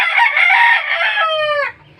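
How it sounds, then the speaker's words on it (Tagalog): A rooster among farmyard chickens lets out one loud, close crow that lasts nearly two seconds and ends abruptly, leaving faint background sound. "Ito yung mga manok namin dito."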